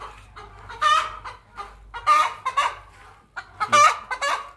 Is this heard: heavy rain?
no